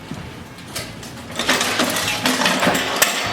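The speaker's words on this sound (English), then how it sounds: "Now we're going to put the snowblower back on its wheels." Older Toro two-stage snowblower being set back down on its wheels, a short run of metallic clanks, knocks and rattles that builds in the second half and ends with a sharp clunk.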